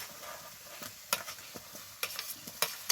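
Fried pointed gourd and potato pieces dropped into hot, oily masala, sharp sizzling crackles and stirring scrapes in uneven bursts, close and fairly loud with no talking.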